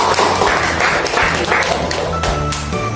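A classroom of students claps in a dense burst of applause, with sustained tonal sounds and occasional thumps underneath.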